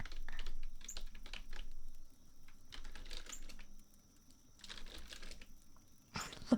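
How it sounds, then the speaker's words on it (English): Typing on a fancy gamer computer keyboard, a soft steady patter of key clicks in close bursts with brief pauses between runs, quiet and intimate with no voice over it. "Nice, fancy gamer keyboard"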